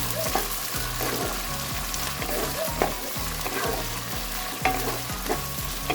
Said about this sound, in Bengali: এটা এখন আমি তেলের মধ্যে দিয়ে দেব। পেঁয়াজটাকে আমি একটু নাড়াচাড়া করে নেব।